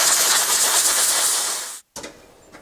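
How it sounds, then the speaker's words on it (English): Compressed air from a nozzle blasts steadily across a cleaned Sidney lathe gearbox in a shop, a loud continuous hiss that cuts off abruptly near the end, followed by a quieter, thinner hiss. "So let's get the air nozzle."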